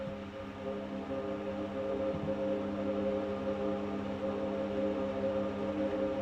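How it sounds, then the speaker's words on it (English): Droning string sample from a song, a quiet, steady sustained tone that holds unbroken for the whole stretch with a soft low rumble underneath and no voices. "So just like a droning string sample"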